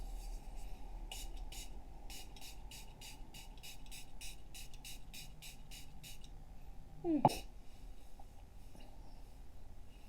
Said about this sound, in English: we're going to use some setting spray